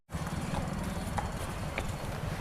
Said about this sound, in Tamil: ரோட்டில் குதிரையெல்லாம் கூட்டிகிட்டு போயிட்டுருக்காங்க